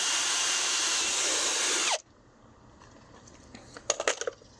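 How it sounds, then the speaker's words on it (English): A power drill bores a small pilot hole while converting a swimming pool into a koi pond, a steady loud whine for about two seconds that stops abruptly, followed by quiet room tone and a few light clicks and taps. "Alright, so let's drill the hole in. Little pilot hole."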